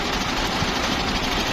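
A 1980 Fiat 480 55 hp tractor engine runs steadily, a loud close low rumble with a fast even knocking throb throughout.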